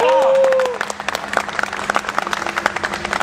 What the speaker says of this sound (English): Round of applause again for Mr.